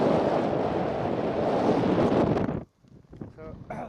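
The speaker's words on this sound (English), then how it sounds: "get out of the wind" Strong wind buffets the microphone on an exposed mountain summit near Ustaoset, a loud continuous roar for over two seconds that drops out abruptly, leaving quieter gusts and rustling.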